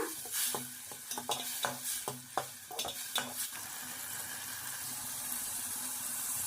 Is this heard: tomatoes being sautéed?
yes